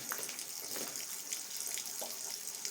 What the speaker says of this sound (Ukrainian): нафтуся тече безкоштовно, пропадає